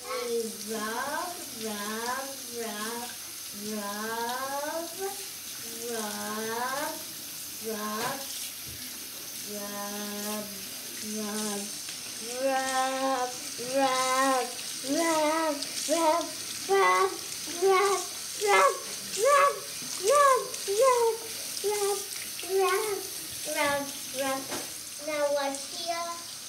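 Hands scrubbed under a running tap, the water giving a steady hiss that continues beneath a person talking throughout.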